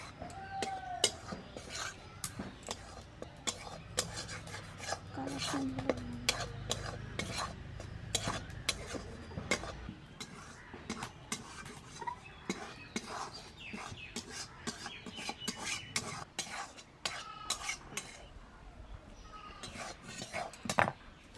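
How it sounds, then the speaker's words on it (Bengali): Gram flour dry-roasts in a wok, stirred with a utensil that scrapes and clinks against the metal again and again, fairly quiet and close with faint background sounds. "এবার আমি বেসনগুলো দিয়ে দেব"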